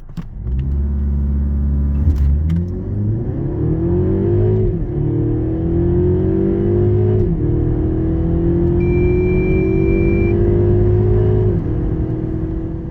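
A Mercedes CLE 300 4MATIC Cabriolet accelerating hard in an acceleration test, its engine rising in pitch through several gear changes, loud and close with a steady rumble and no talking.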